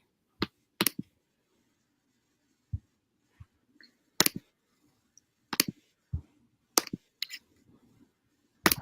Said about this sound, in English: I just heard you hitting your keyboard